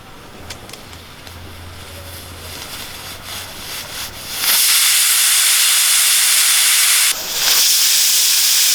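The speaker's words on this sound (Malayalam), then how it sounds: "രണ്ട് വിസിലടിച്ച് എടുത്തിട്ടുണ്ട് ഇനി ഇതൊന്ന് ആവി പോയിട്ട് നമുക്ക് തുറക്കാം" A pressure cooker of rasam rice suddenly lets out a loud, forceful hiss of steam that keeps rushing, breaking briefly once before resuming.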